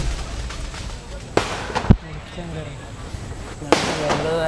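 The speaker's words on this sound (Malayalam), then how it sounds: "ഇവിടെ പടക്കൊക്കെ പൊട്ടിക്കുന്നുണ്ട്." Firecrackers burst sharply a few times in a busy Mumbai street, loud close cracks between stretches of crowd noise and people talking.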